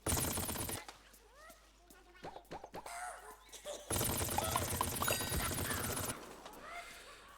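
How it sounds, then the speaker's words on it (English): Bursts of rapid video-game gunfire from somewhere nearby, loud broadband rattling at the start and again in a long sustained stretch midway, with scattered sharp single shots and clicks in between. "there's something shooting over here"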